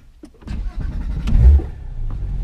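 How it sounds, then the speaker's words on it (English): A Porsche engine rumbles and revs on a mountain road, heard close from the cabin with the windows down, building to a deep low surge midway before settling back to a steady drone. "I like to have the windows down so I can hear the engine resonating off the mountain walls"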